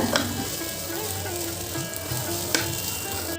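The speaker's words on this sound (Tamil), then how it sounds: "இப்போது எல்லாத்தையும் நல்லா வதக்கி விட்டுக்கோங்க" Vegetables and broken idiyappam sautéing together in a pan, a close continuous sizzle with soft scraping stirs and a couple of sharp knocks against the pan.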